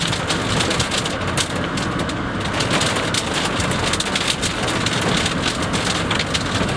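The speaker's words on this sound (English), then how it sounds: "Getting a bit of hail here." Heavy hail and mud-coloured rain pouring down during a tornado near Bennington and Chapman, Kansas, a dense, continuous loud roar of drops hammering surfaces nearby for the whole stretch, with no voices.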